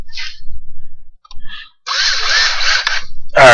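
A power drill drives screws to fasten a hold-down jig onto a CNC table, with short bursts followed by a longer steady whir and a closing squeal, close and fairly loud.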